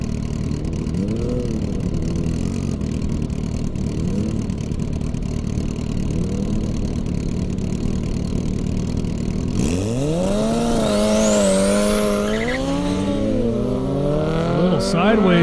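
At an airstrip drag race, a Cutlass car and a Kawasaki ZX-10R motorcycle idle and rev with wavering engine tones, then burst into a loud, sharply rising launch of engine pitch partway through, with a voice talking over it.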